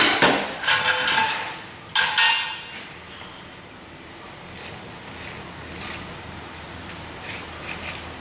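A kitchen knife slices down through the middle of a vegetable to expose its seeds, two sharp close cuts landing on a board near the start, then only faint scraping and light clicks trail off in a quiet room.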